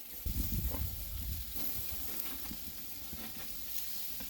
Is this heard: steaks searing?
yes